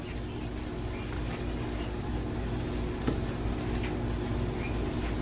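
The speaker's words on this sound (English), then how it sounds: "Now we got a swimming pool full of frying zucchini" Zucchini slices dredged in flour and salt fry in a pan full of oil with a steady, soft hiss and crackle that carries on evenly, with no voices.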